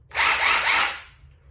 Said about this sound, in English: Now this hammer drill, or chipping hammer, has the different modes.